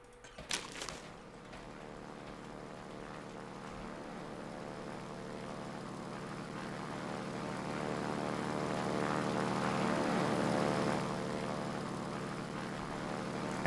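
A propeller aircraft called the Flamingo, in the airfield-building game Ground of Aces, gives a steady droning engine tone that slowly swells louder and then eases off slightly. A short clatter comes at the start, and nobody speaks.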